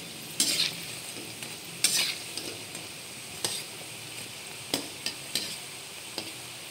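Cheese pakoda sizzle softly in hot oil while a spoon stirs and flips them, a quiet steady frying hiss punctuated by several brief scraping clatters of the utensil against the pan.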